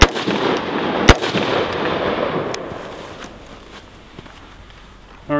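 A single sharp rifle shot fired from a side-prone position with a Griffin Armament blast shield fitted on the muzzle, a loud close crack followed by a long fading rumble of ground disturbance, then another abrupt report right at the end.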